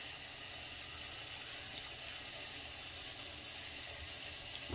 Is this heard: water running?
yes